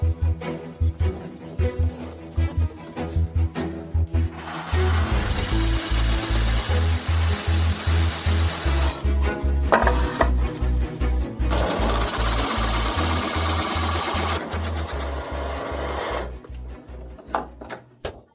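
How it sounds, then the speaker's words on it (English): A hole saw cuts a hole in wooden formwork for a PVC pipe: loud, close pulsing drill bursts grind in two long runs, with short starts and pauses between. "then we can cut it out with the hole saw"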